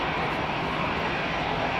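A Korean Boeing 747 arriving at London Heathrow, a steady broad jet engine roar, loud and constant over the short stretch.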